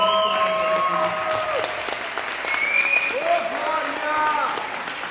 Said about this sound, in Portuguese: Evangelista Roberto, uma salva de palmas.